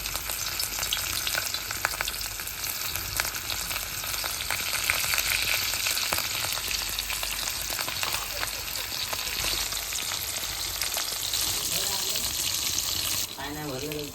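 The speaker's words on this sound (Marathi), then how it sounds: "कोलंबी एक एक करून तेला सोडूया." Prawns from Malvan frying in hot oil in a home kitchen, a steady loud sizzle and crackle running throughout, with stirring noises and a brief watery splash near the end.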